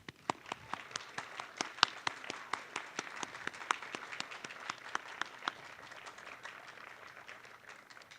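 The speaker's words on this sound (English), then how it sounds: "Graduates, would you please join me in applause" Graduation audience at a Class of 2022 commencement on an outdoor quad applauds together, sharp individual claps rising over a soft wash of distant clapping that thins out toward the end.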